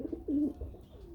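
Pigeons coo close by, a few soft, low throaty calls in a short burst with no other sounds.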